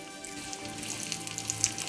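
Cashew nuts and raisins frying in a pan of fat, a steady low sizzle with faint crackles and pops throughout, close and alone.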